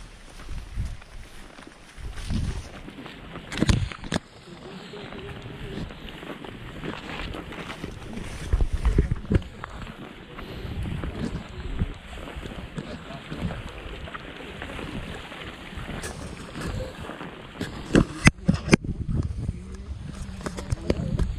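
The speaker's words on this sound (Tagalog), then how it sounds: "Sobrang lakas ng hangin dito." Strong wind buffets the microphone near a lake, a steady rushing roar with irregular gusts and thumps, and footsteps crunching along the way.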